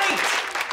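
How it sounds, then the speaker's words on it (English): A brief moment of studio audience applause at a singing contest, a dense, steady patter of many hands clapping together. "you, the audience, are gonna pick a winner by your own applause"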